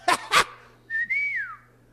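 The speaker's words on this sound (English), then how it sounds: "you know why I whistle?" A man whistles close by, two short sharp bursts followed by a longer sliding whistle that rises slightly and then falls away, in a quiet setting.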